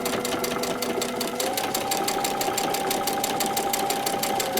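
A sewing machine stitching a seam on a paper-pieced quilt block, running at a steady fast pace with a close, even, rhythmic clatter and hum throughout.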